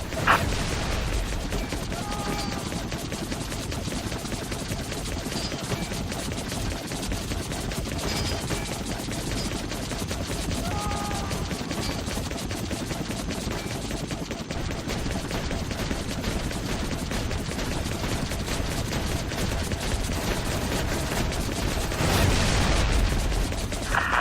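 Enemy gunfire in Air Conflicts Vietnam on Xbox 360, a steady rattle of automatic fire and distant booms layered under constant aircraft engine drone, with a louder burst near the end.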